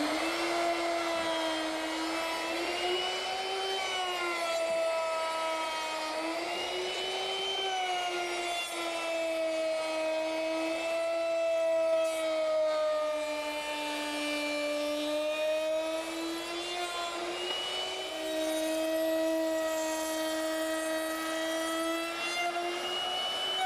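A woodworking router fitted with a half-inch round over bit shapes the edges of a wooden picnic table, producing a steady high-pitched motor whine with a gently wavering pitch that holds close and continuous for over twenty seconds.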